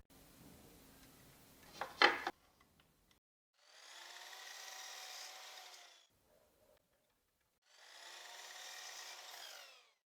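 A saw cuts through a wood piece in two sustained buzzing passes, each a few seconds long and separated by quiet, after a short knock and scrape of handling.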